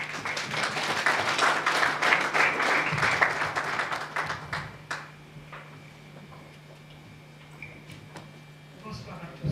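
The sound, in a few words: audience applauding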